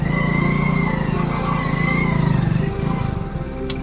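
A motorcycle carrying two riders labours along a muddy, rough off-road track, its engine note loud and close, wavering as the throttle rises and falls, with no speech over it.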